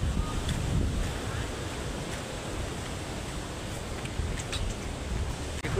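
Rough, churning sea waves roar in a steady broadband wash, with wind buffeting the microphone and occasional splashes over the continuous surf.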